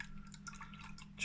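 Beer, an IPA, poured into a glass, a short soft liquid splash and trickle heard alone at low level.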